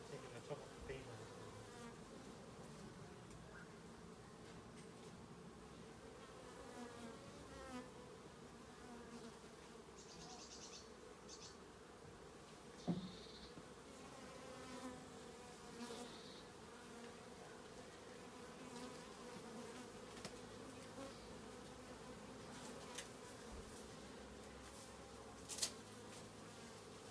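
A swarm of bees hums in a steady, continuous drone as the top of their hive is lifted off, with a few brief knocks and handling bumps over the quiet, unbroken buzz.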